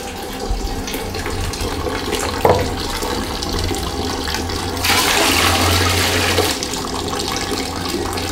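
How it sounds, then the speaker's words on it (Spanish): Water runs from a tap with weak pressure, a steady splashing hiss that continues throughout at close range, briefly growing louder and fuller midway before settling back. "¿por qué hay tan poca fuerza en el agua?"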